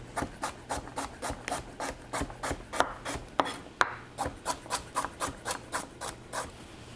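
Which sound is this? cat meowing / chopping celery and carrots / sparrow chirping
chopping celery and carrots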